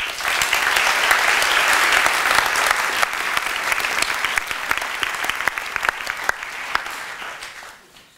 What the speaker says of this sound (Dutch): Ik wil graag een applaus voor Herman Philipsen.